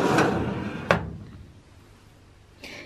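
Drawers of a makeup storage unit knock shut in two or three quick wooden bumps and a slide, close by in a quiet room with no voices.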